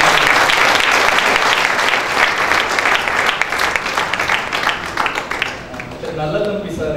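An audience at an inauguration ceremony for UPSC prelims students applauds, dense sustained clapping that carries on steadily before thinning and fading near the end.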